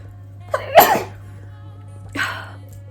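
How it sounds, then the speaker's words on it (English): A single person sneezes close by, a sharp breathy burst preceded by a short intake, followed by a second softer exhale-like burst, over a low steady hum. "I'm gonna sneeze."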